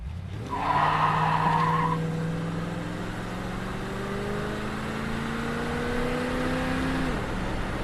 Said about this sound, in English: It downshifts, the 4 barrels are working nice. Transmission shifts smooth.